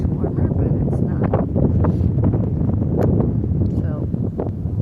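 Wind on a cool beach rumbles and buffets the microphone throughout, loud and steady, with a voice talking beneath it.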